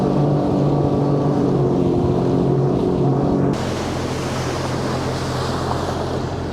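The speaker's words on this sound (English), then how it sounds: "see how it's picking up at speed on the Seadoo with a lot of wind blowing by me" A Sea-Doo personal watercraft runs at speed on open water, its engine drone steady and loud beneath heavy wind buffeting. Partway through, the wind roar surges brighter and the hull rush intensifies, with no voices.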